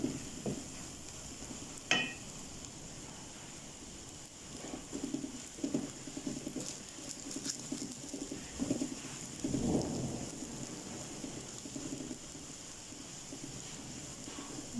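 Heavy rain falls steadily outside during a thunderstorm, with a sharp crack of thunder near the start and low rumbles rolling through, while semolina roasts indoors for halwa on a rainy Independence Day.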